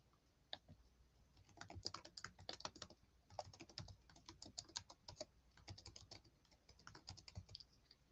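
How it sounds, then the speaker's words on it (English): Steady typing on a computer keyboard, a run of quick, close, clicky keystrokes in uneven bursts with short pauses, no talking. "Let me type it in."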